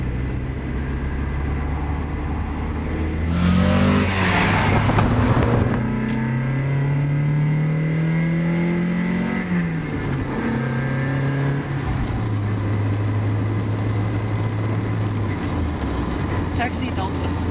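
A Mazda Miata creeps along in traffic behind a taxi, its engine note rising and falling steadily and close up through the cabin while someone talks throughout.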